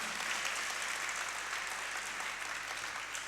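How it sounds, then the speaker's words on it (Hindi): Audience applause at a religious discourse gathering, a steady even patter of many hands clapping together throughout, fairly distant and without talk over it. "चलो एक बार तालियां बजाओ अपने लिए"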